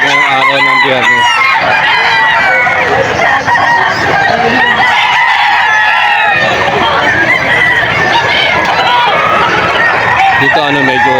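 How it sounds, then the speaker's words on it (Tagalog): Many chickens clucking with roosters crowing repeatedly, close and loud, amid a busy, crowded poultry market with people talking. "Ang daming manok ng araw ng Biyernes."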